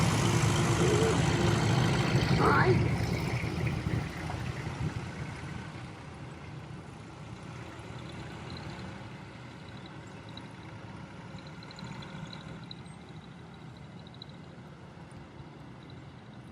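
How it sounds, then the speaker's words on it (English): Several tractors of different types roll past at a country-town parade, a loud broadband engine rumble that swells in the first few seconds, then settles into a steadier, fainter drone as they move on. A voice briefly says a greeting. "we've woken up by tractors. All different types."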